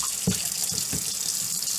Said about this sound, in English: run another same amount of clear water for the rinsing of the yarn.